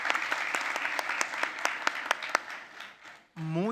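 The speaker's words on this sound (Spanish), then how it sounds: "Muy merecido aplauso, Natalia," An audience at a conference claps in a crisp, fairly sparse burst of distinct hand claps that thins out and fades, then a voice begins speaking at the very end.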